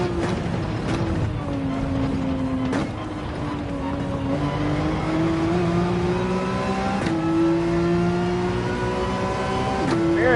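A race car engine revs and climbs through the gears on the Red Bull Ring in Gran Turismo 7, a loud steady drone whose pitch rises with each gear, broken by brief shift drops.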